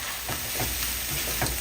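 Seasoned meat for pasta sauce sizzles quietly in a pan while a utensil stirs it in soft, irregular scrapes over a steady frying hiss.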